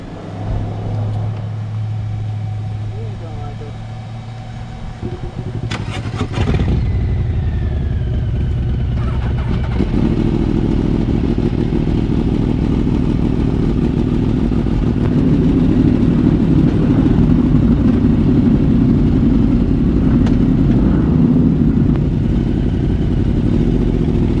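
A Harley-Davidson motorcycle engine runs loud and close, idling with a low rumble before revving up into a sustained heavy roar that holds steady to the end, no talking.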